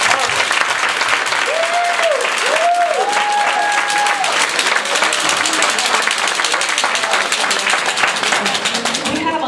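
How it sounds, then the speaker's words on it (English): A large audience at a Toastmasters district speech contest breaks into sustained applause, loud and continuous throughout, with a few voices calling out over the clapping. "Let's give them a round of applause."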